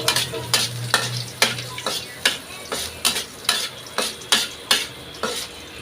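Garlic fries in hot cooking oil in a pan, with a soft sizzle under steady, rhythmic scraping strokes as it is stirred, close and fairly loud.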